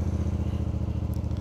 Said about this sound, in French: Sonorité sympathique de cet échappement à double branche.